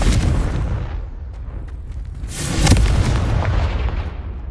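Confringo blasting spell exploding in Hogwarts Legacy, a loud sustained roar of booming blast with a second swell partway through, dense and rumbling with no talking.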